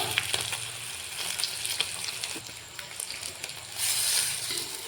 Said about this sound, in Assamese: এইফালে মাছ ফ্ৰাই কৰি আছোঁ